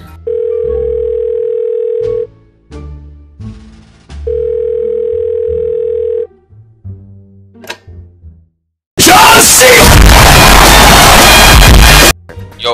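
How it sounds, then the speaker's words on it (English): Dial tone of a phone call on speakerphone, sounding as two long steady tones, each about two seconds, separated by thumps and clatter, followed by a loud burst of harsh noise. "I'm calling Valve on a speaker."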